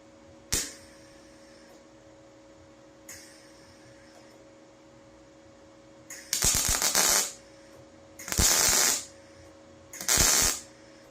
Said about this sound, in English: Let's weld up here a little bit.